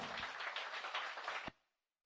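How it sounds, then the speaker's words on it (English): A church congregation clapping as an offering to the Lord, a steady burst of applause heard faintly at a distance that stops abruptly after about a second and a half. "जोर से तालियां बजाएंगे हम"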